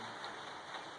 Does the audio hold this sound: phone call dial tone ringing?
no